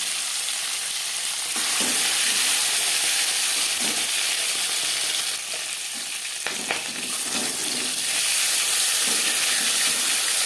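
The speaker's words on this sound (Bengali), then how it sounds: "মাছ ভাজবার জন্য চার পাঁচ চামচ রিফাইন অয়েল গরম করে নেওয়ার পর দিয়ে দেবো ম্যারিনেট করে রাখা মাছ" Marinated bata fish frying in a few spoonfuls of hot refined oil, a loud continuous sizzle and hiss with brief spattering bursts, steady throughout and close.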